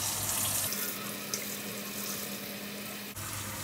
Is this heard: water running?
yes